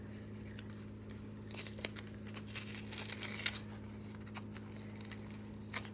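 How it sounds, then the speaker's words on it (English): Painter's tape slowly peeled off a fidget slider box, a soft continuous crinkling and tearing rasp with small ticks, faint and close over a steady background hum. "They like to hear the noises of the tape."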